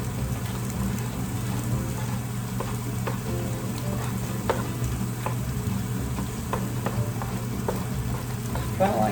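Gnocchi simmering in a heavy cream sauce, a soft continuous bubbling and sizzle with scattered small pops and stirring clicks, fairly quiet and steady.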